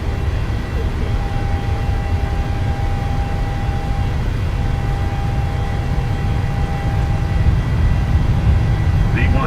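Airliner engines roaring steadily at takeoff power in Microsoft Flight Simulator, departing Amsterdam Schiphol, a loud continuous broadband rumble with a faint steady tone running through it.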